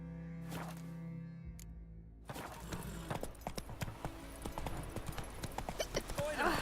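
Hooves of Geralt's horse Roach clop steadily in The Witcher 3 after a quiet lead-in, a rhythmic walking beat of close thuds with a brief voice and sustained background music underneath.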